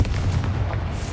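A Confringo spell explosion in the Hogwarts Legacy video game, heard as a loud, sustained low boom with a rumbling blast that fills the whole short moment.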